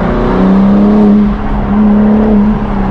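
A BMW M car accelerating, its engine note a loud, steady drone that rises and holds through the clip with no talking over it.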